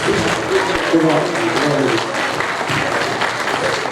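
An audience applauds a music trio at a concert of regional songs, a dense, steady clapping that fills the space close and loud, with a voice speaking over it.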